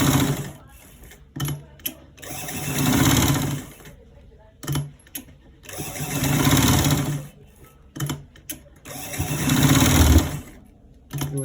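A sewing machine stitches elastic onto the back of a waistband in three sustained bursts of whirring mechanical hum, separated by quieter pauses with brief clicks, close by.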